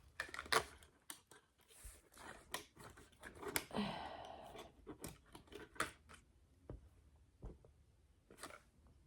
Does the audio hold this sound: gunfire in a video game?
no